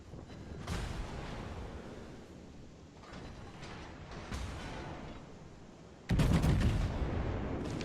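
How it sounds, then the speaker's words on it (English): The Bismarck's secondary batteries firing at the King George V in World of Warships: repeated cannon reports and rumbling booms, ending in a louder, denser volley near the close. "So I target him with my secondary batteries, and I open up"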